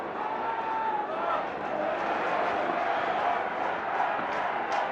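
A happy cricket crowd at an India vs Pakistan Test in 1999 cheers and roars in a dense, steady swell of massed voices, loud and sustained across the stands.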